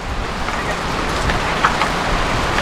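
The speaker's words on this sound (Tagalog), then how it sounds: "Lakas ng ulan, no?" Heavy rain from a storm pours in a dense, continuous hiss, close and loud, with scattered patters on a surface.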